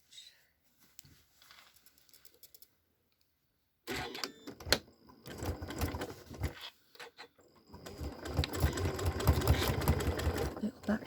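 A sewing machine stitching a stocking starts after a near-silent pause, running in a couple of bursts with short gaps, its rapid mechanical patter fairly close and moderately loud.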